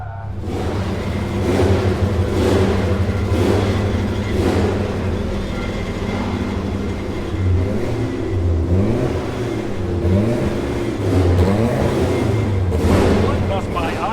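Ferrari turbo race cars on the Imola track scream past with rising and falling engine notes, several loud passes blending into a continuous roar, with voices talking underneath.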